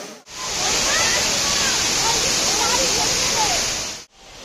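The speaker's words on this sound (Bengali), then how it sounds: "জলের খুব আওয়াজ।" Water rushing loudly over a dam in the hills of Purulia, a dense, steady roar close by that fills the whole stretch evenly from start to finish.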